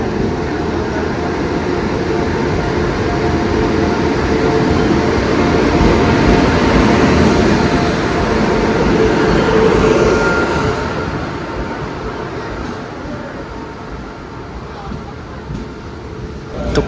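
The Mangala Express pulls into Mangalore station on time, a loud, sustained rumble and rolling clatter of the train at close range that gradually fades, with voices talking over it.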